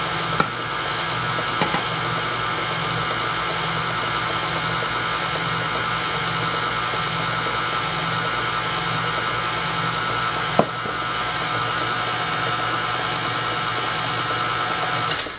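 An electric mixer whirs steadily while mixing lemon blueberry cake batter, a constant close motor drone with a couple of brief knocks against the bowl.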